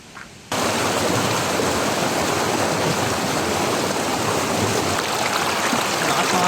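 Strong stream current rushing past a riverside campsite at Sentro ng Bato in DRT, Bulacan, a loud continuous roar of water that starts abruptly after a quiet moment and holds steady.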